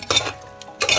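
A spoon scrapes and stirs through mutton korma with powdered spices in a pot, producing two bursts of rough scraping separated by a short pause. The sound is close and moderately loud.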